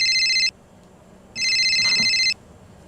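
An old-style telephone bell rings twice, each a loud, buzzy electronic trill about a second long separated by a short pause, close and alone.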